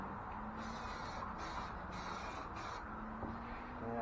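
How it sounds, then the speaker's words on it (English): Short hissing bursts from a spray paint can onto a car steering wheel in a rapid series of four over a constant background noise, close and fairly faint. "I'm spraying from the inside, spraying from the outside."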